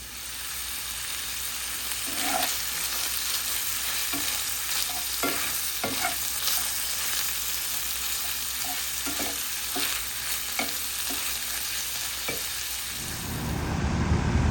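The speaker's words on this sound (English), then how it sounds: "I'm going to fry it up in my cast iron skillet so it's ready to put onto the pizzas." Aldi sausage frying in a cast iron skillet gives a steady, close sizzle, broken by repeated scraping stirs every second or so. No one speaks.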